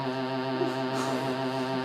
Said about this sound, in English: just what our glottis sounds like